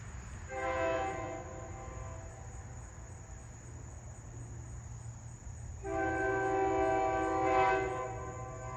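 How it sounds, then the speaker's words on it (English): A train horn sounds two long blasts several seconds apart over a low rumble of passing rail cars at Langhorne train station, with crickets chirping in the background. "There goes the train."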